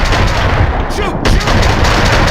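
Dense gunfire in the third-person shooter Max Payne 2, with rapid, loud, overlapping shots forming a near-continuous burst that briefly drops out before resuming, all upfront in a busy firefight.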